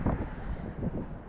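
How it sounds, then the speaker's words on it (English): A short rush of wind from a passing warm front buffets the microphone during an outdoor walk, a low rumbling gust with uneven swells. "We have a warm front coming through, so it's windy."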